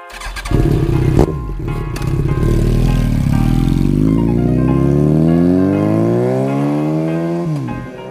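Several motorcycles, among them a Yamaha R1, roar loudly together in a long revving acceleration with rising engine pitch, close and sustained before easing off at the end.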